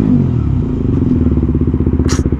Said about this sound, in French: un petit freinage d'urgence, tu connais